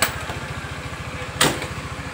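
A sluggish Honda Beat FI scooter engine idles close by with a rough, stuttering low putter. One brief louder burst of noise cuts across it midway.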